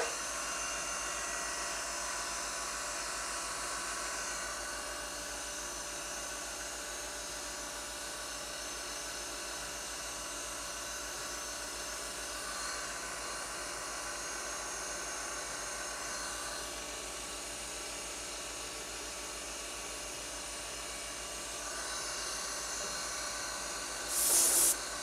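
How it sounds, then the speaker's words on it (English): Small milling machine cutting with a 2 mm two-flute end mill at 3000 RPM, a steady high-pitched whine and hiss running continuously up close, with a slight rise and shift near the end. "Running at 3000 RPM with the small end mill"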